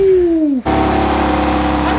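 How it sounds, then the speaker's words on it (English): A falling tone gives way to a steady low engine drone and broadband exhaust roar from a BMW sports car, fairly loud and close, holding constant. "Any exhaust you put on this car, guys, is gonna sound freaking amazing."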